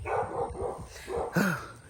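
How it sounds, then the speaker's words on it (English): A neighbor's dog barks outdoors near a garden, several quick, fairly close woofs with a whiny yip at the end, heard alone without talk. "And the neighbor's dog is out."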